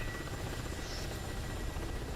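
Helicopter in the video game Holiday Junction, a steady droning rotor and engine roar held at constant level throughout, with no talking.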